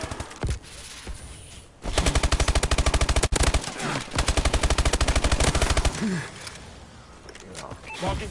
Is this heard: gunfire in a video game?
yes